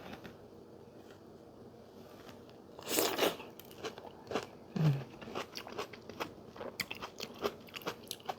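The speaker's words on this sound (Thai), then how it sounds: "เนื้อแบบไม่ได้นิ่มนะคะ เป็นเนื้อแบบกรอบๆเลยค่ะทุกคน" Crisp fresh tomato bitten into close up, a sharp crunchy bite followed by a run of wet, crackly chewing crunches at an uneven rhythm, quiet and alone with no talk.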